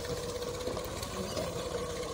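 A Massey Ferguson MF 240 tractor, a 2010 model heading into a field, runs with a steady diesel engine drone and a fine regular knock, continuous and fairly close, with no talk.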